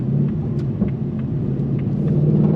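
A 2024 Ford Mustang Dark Horse V8 under throttle, a loud, deep, continuous engine rumble heard from the cabin that swells slightly toward the end.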